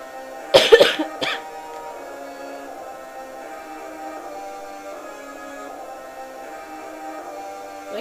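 A single cluster of harsh coughs from a person playing a Game Boy Advance game, loud and close at the start, followed by a steady hum of game music.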